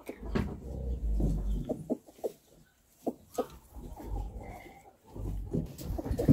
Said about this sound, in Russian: это несушки наши, они нам сейчас яйца несут